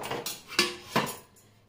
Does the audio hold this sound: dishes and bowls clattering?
yes